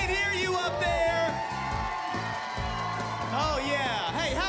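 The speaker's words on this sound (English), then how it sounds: "Let's give them another round of applause." An audience at a kids' Christmas program cheers and whoops with a wash of applause, loud and sustained, while voices shout and talk over the crowd.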